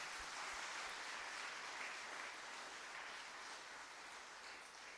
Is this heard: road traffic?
no